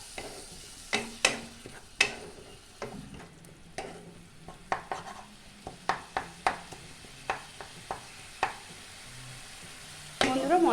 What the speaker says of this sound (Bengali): অল্প একটু জল দিয়ে দিলাম, দিয়ে মশলাটা ভালো করে কষে নেব।